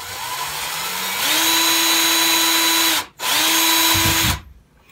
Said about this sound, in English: drill a hole that's just big enough that I can thread my paracord through there